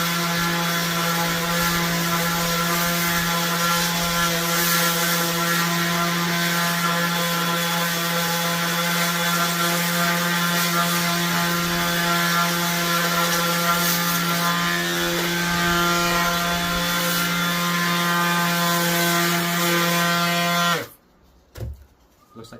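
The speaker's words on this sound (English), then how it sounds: "I just basically turn it on, sand off the edges, smooth it off, round it off, and just make it look nice" A power sanding tool whines in a steady, loud, high-pitched drone while smoothing the edges of a boot part, running continuously for about twenty seconds before abruptly cutting off.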